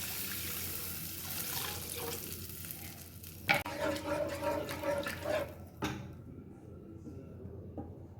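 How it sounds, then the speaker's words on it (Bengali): Water is poured into a pan of butter garlic chicken, giving a steady sizzling frying bed with a sharp burst of hiss and bubbling as the liquid hits, then settling into a quieter simmer. "এবার আমি এটার মধ্যে জল দিয়ে দেবো।"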